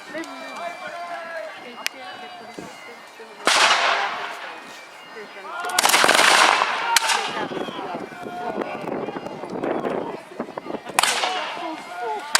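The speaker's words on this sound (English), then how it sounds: "You can also hear in the background, at the very least, some of the cannons we have on the field here today." Cannons boom in sharp, loud blasts at a Napoleonic siege reenactment at Old Fort Erie, several reports spread over the stretch under ongoing commentary from someone talking.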